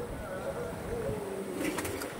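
Pigeons, Madras flying-line birds offered for sale, cooing in low, soft, wavering calls close by, with faint background noise and a brief clatter near the end.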